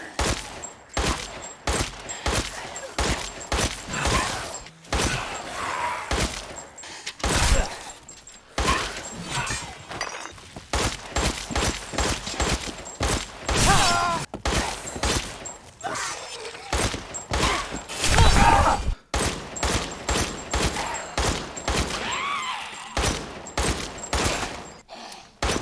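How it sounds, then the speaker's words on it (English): Rapid handgun shots from the Resident Evil Village video game, fired against a Moroaika enemy: dozens of sharp, loud reports in quick irregular bursts, almost continuous across the stretch with only brief pauses between volleys. "So let's test this final handgun on a Morokai."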